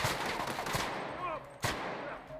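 Sharp gunshots from The Outer Worlds, a few separated cracks with a dense burst of firing at the start, loud and close, over a busy in-game background.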